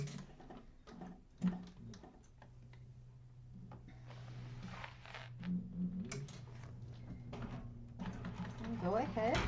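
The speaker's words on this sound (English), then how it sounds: "go ahead and top stitch around the perimeter of it" A sewing machine top stitching around the perimeter of a handbag runs in a steady, rapid stitching rhythm close by, with pauses and small clicks, while someone talks over it at times.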